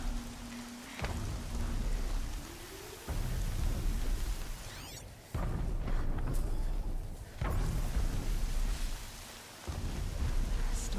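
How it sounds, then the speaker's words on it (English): A heavy sideways-driven rainstorm in the video game Horizon Zero Dawn roars as a dense, loud wash of rain with rumbling thunder, broken by brief near-silent cuts. "Yeah, this is a heavy storm. Look, the rain is going sideways."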